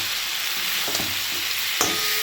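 Khichdi with two spoons of sugar sautéing in a pan gives a steady, dense sizzle, broken by two brief scraping stirs of a spoon against the pan, with no one speaking.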